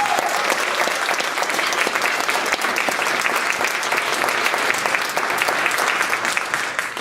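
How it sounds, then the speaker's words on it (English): A high school band concert crowd applauds freshman marching band members with steady, dense clapping at an even level for seven seconds, no voices over it. "deserves a round of applause. Give it up for these guys."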